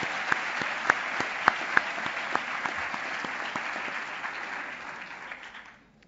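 A graduation ceremony audience applauds newly graduated nurses with sustained clapping, a few sharp claps popping out near the start before the applause gradually fades away.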